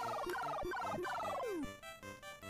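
Chirpy, warbling electronic bird calls from the Dr. Jekyll and Mr. Hyde video game repeat in quick descending bursts, followed by a falling swoop and steady game music, all synthetic and fairly quiet.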